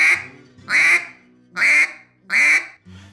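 A hand-blown duck call sounds four loud, nasal quacks in a slow, even rhythm, up close, trading between two slightly different versions of the basic quack, with a fainter fifth note trailing off.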